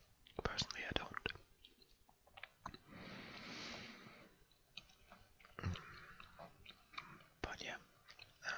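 Chewing gum, soft close mouth sounds and sticky clicks interspersed with quiet whispered speech.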